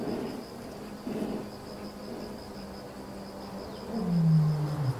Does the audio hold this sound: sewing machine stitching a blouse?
no